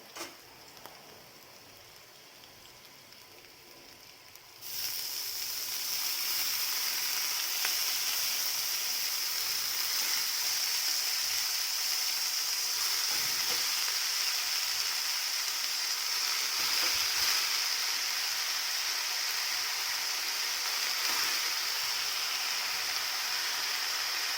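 Chopped chili vegetable is dropped into hot oil already cooking with garlic and chili, setting off a loud, steady sizzle that jumps up after a quieter start and holds evenly to the end, with no voices.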